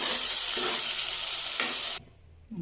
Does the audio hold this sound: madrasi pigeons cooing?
no